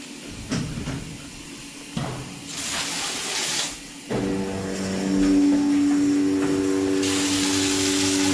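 Water from a hose rinses equipment at a DeLaval VMS milking robot in a barn, with hissing spray bursts and then a sustained rush joined by a steady mechanical hum.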